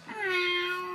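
A single cat meow in the visual novel If My Heart Had Wings, a clear, sustained tonal wail lasting about a second, heard alone and fairly close.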